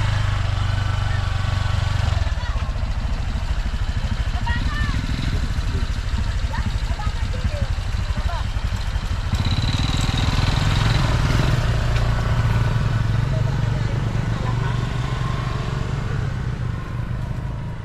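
A motorcycle runs along a village road in Barangay Malbogon, Libmanan, Camarines Sur, a steady engine drone that swells and passes close by amid ambient road noise, with voices talking faintly in the background.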